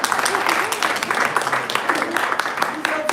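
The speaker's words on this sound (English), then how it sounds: "Please clap." An audience at a youth conference seminar claps in a brief burst of applause, with voices murmuring and talking over the patter.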